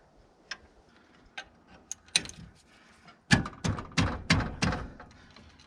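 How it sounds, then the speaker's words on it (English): Bolts backed out of the AC compressor bracket on a 1988 Chevy Suburban with a GM Harrison R4 compressor: a few scattered light ticks, then a steady run of five or six sharp, close ratcheting clicks, with no talk. "I'm gonna back these bolts out of the bracket here."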